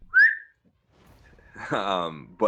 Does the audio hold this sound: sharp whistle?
yes